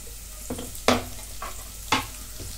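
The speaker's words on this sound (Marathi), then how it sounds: "आता कांदा इथं मी चांगला भाजून घेतला." Onion fries in two spoons of oil in a pot, with a soft sizzle under sharp, intermittent scrapes and clinks of a spoon stirring against the metal at close range.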